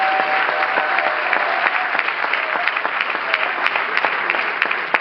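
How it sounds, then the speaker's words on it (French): A packed live comedy audience in Stains gives Asdin a thunderous round of applause, with dense, steady clapping that fills the room at close range and holds evenly from start to finish. "un tonnerre d'applaudissements à Asdin"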